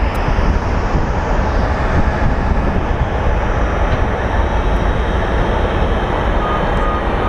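A jet airliner in Cruise the Island Fox livery arriving at Phoenix Sky Harbor International Airport from Santa Ana, a loud, steady, broadband engine roar with deep rumble that holds throughout, with no talking.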